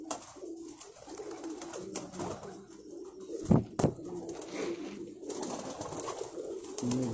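Home-bred domestic pigeons in a Rawalpindi loft coo in low, rolling calls, several birds overlapping near the microphone, with a couple of sharp louder bursts midway amid soft rustling.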